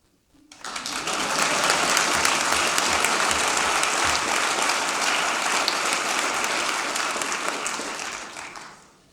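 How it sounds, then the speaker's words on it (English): Sustained applause from a legislative chamber audience during a Nevada State of the State address, rising abruptly, holding loud and steady for several seconds, then tapering off. "Make note, I didn't ask for applause."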